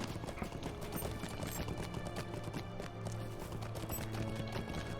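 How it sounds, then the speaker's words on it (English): Horse hooves clip-clop in a steady, continuous rhythm while riding through Ered Luin in the Lord of the Rings Online game, layered over a dense wash of background game sound at moderate loudness. "And let's jump on our horse again."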